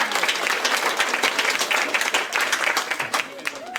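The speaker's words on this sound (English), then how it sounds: "Give him a round of applause." An audience at a winner's circle program claps in a dense, steady round of applause, loud and close, with a voice speaking near the end.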